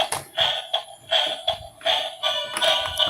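Tinny electronic music from a toy dinosaur plays in short beeping bursts with a shuffling, clattering rhythm underneath, fairly close and no talking.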